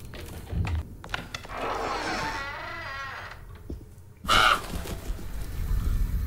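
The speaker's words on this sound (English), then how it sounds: "Why is there a bird in here?" A crow caws inside the horror game Grace in the Dark, a harsh drawn-out call followed by a sharper caw, heard close amid dim ambient rustles and thumps.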